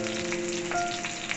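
Rajma masala base sizzling and frying in a pan, a steady close crackle with a faint tonal whine running through it, no voices.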